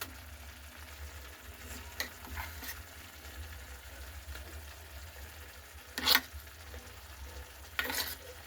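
Boiled, blended spinach paste fries softly in a pan as a spoon scrapes and stirs it, a faint steady sizzle with a few sharper clinks, no talk.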